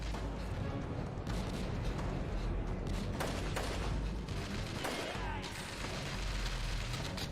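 Gunfire and explosive bursts in the video game Chernobyl Commando, a busy, continuous clatter of shots and booms of uneven intensity, fairly close and steady in level throughout.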